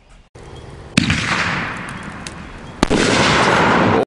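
A Raccoon Fireworks Jawsome 500 gram cake from the Shark Attack series fires outdoors: two sharp launch bangs a couple of seconds apart, each followed by loud, sustained crackling and rushing burst noise.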